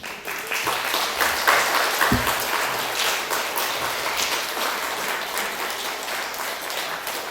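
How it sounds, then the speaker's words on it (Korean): A church congregation applauding steadily for several seconds during a Sunday service, a dense, even patter of many hands clapping without letting up. "큰 박수, 큰 격려 해주시기를 바랍니다"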